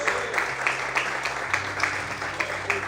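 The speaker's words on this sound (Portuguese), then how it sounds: "Aplauda o Senhor bem forte," Steady applause from a church congregation during a service, a dense patter of clapping with a faint rhythmic pulse, moderately loud and continuous.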